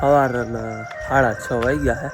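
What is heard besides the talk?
peacock calling in the morning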